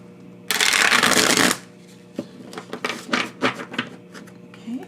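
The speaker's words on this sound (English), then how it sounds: "I'm just going to do one quick shuffle and we can get started and get you some tarot." A deck of tarot cards is shuffled in one loud, dense riffle lasting about a second, followed by a string of softer, separate card taps and slides, with no talk.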